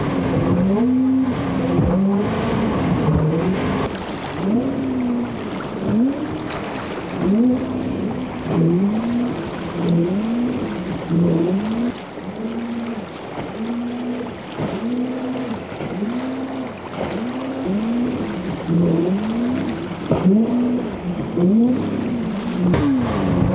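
An outboard motor boat riding on a hydrofoil runs at mid RPM, its engine note rising and falling in steady repeated swells, loud and close throughout with no talking.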